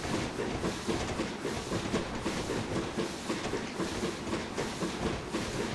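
A Class 313 train runs in Train Simulator, a steady rolling rumble with faint rhythmic clatter of wheels over rail joints.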